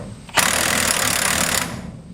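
A Milwaukee half-inch electric impact wrench spins on a Duramax tow hitch in one loud, continuous buzzing burst lasting just over a second, then cuts off sharply into low background noise.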